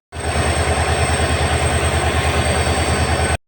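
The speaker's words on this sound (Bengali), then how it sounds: "ট্রেন চলে এসেছে, তো এখন আর ভিডিও রেকর্ড করা সম্ভব না" A train runs past at close range, a loud, steady rumble with a regular rhythmic clatter of wheels over rail joints throughout, no voices over it.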